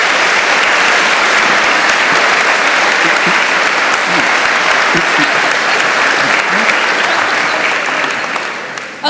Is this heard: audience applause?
yes